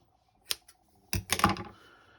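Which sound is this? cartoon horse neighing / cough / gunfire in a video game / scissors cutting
scissors cutting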